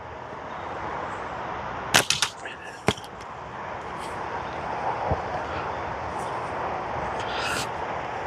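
Latex-band slingshot shots striking a 40mm flipper target outdoors, a few sharp cracks and clanks, two prominent near impacts followed by fainter taps over steady background wind noise.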